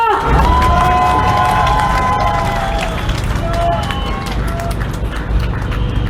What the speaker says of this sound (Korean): 다시 한번 힘찬 박수 부탁드리겠습니다.